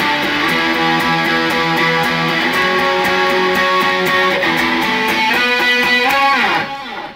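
Electric guitar through a Rat distortion pedal and delay plays a walk-up, dense and sustained with echoing repeats, loud and continuous before fading at the end.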